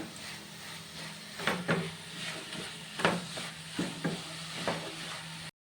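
Squid masala sautéing in a pan while a spoon stirs it, with a continuous hiss of frying broken by repeated scraping strokes at an irregular pace.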